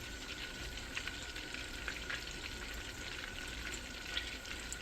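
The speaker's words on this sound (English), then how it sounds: "you can see it's bubbling up because I put the skinny syrup in there" Keto candy mixture with sugar-free syrup bubbling in a pan, a steady close sizzling and bubbling with faint stirring, no talking.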